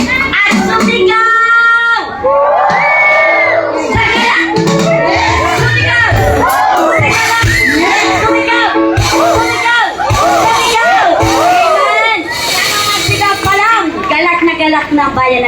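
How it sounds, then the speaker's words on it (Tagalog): A church congregation at an El Shaddai anniversary gathering shouts and cheers in praise, a loud, dense mass of overlapping voices that continues steadily throughout. "Taas ang mga kamay at sumigaw!"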